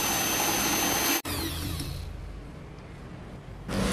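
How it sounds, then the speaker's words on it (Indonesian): An electric hand mixer whips eggs into a thick white foam for Vietnamese egg coffee, giving a loud, steady motor whir that cuts out briefly, restarts, and then rises again near the end. "Kita mixer hingga telurnya nanti menjadi putih. Cukup kita mixer selama 2 menit."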